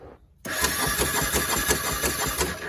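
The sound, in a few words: ATV engine puffing air through exhaust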